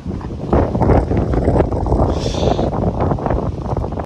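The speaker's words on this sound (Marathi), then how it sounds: "आणि वारा बघू शकता बाप रे बाप सुंदर असा वारा" Strong wind gusting across the hilltop of Asherigad fort, a steady rushing roar buffeting the microphone for the whole stretch with no break.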